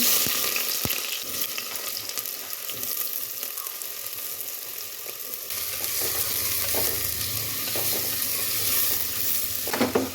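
Sliced onion hisses and sizzles in a pan with fenugreek, stirred steadily by a spoon scraping the metal, the frying growing louder and fuller partway through, with no voices.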